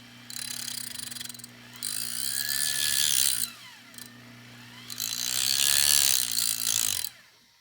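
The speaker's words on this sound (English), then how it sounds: "I'm going to make sure that I don't move my Dremel like that" A Dremel rotary tool grinds worn teeth on a Pathé phonograph gear in three short, high whining bursts separated by quiet gaps, close and fairly loud over a faint steady hum.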